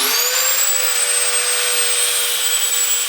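A power tool cuts tungsten steel for a turbo V8 Mustang manifold build, producing a loud, continuous high-pitched grinding whine that holds steady throughout without pauses.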